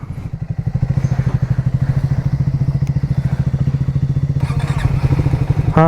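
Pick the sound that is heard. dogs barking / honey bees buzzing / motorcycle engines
motorcycle engines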